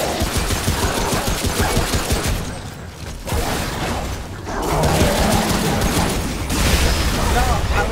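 Dense bursts of gunfire and heavy booms from the video game Remnant: From the Ashes, loud and sustained with brief lulls between volleys, with voices talking over it.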